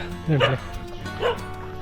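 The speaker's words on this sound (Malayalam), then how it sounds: "ഇവിടെയായിട്ട് കുറച്ച് പട്ടികളൊക്കെ ഉണ്ട്" A dog gives two sharp, close barks about a second apart on a hill trail near Vamala Ayyappa Temple, Palakkad, with quiet background noise between them.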